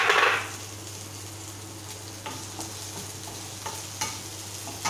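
Potato with finely chopped ginger and garlic is stirred in a hot oily pan, a soft continuous sizzle with a louder scrape at the start and scattered light clinks of the spoon against the pan.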